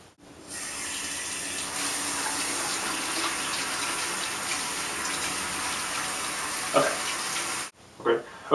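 Hot water runs steadily from a tap onto a razor blade at a sink, a continuous close hiss that stops abruptly near the end, followed by a few brief knocks and clatters.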